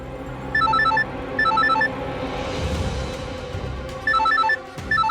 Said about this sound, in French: Rocky, le téléphone.